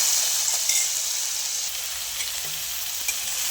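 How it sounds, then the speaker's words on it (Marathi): Crushed garlic and green chilli thecha fries in hot oil for palak pithla, a constant close sizzle and crackle with occasional light clicks of a stirring spoon. "ठेचा तेलामध्ये छान असा परतून घ्यायचा आहे"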